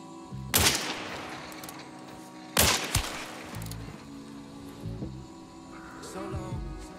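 Two loud, sharp revolver shots from a Nagant M1895 in the video game Hunt: Showdown, spaced about two seconds apart, each followed by a short echoing tail, then quieter game ambience.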